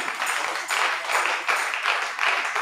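A church congregation at a Sunday baptism service applauds the candidates, with full, dense clapping that swells and eases in waves and fills the room throughout.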